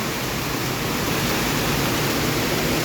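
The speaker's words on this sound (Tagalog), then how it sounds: "Gusto ko yung bulog sa tubig sa mga sapa dire." Floodwater rushing through a swollen creek after heavy rain, a steady, loud, broadband roar with no breaks, constant and close throughout.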